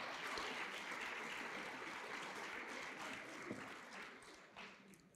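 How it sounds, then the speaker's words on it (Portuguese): A church congregation bursts into sustained applause, a dense wash of many hands clapping that holds steady and then thins out slightly toward the end, with faint voices mixed in. "Você pode aplaudir ao Senhor por isso?"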